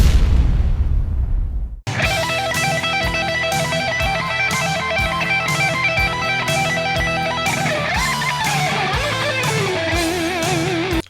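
Distorted electric guitar playing a big stretchy lick from a solo, loud and sustained over a steady drum beat, with wide string bends sliding pitch up and down, after a brief noisy start.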